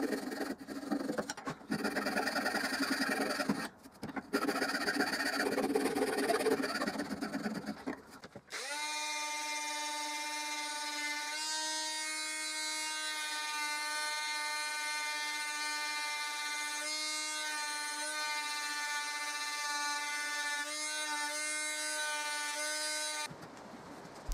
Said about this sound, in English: finally my electric detail sander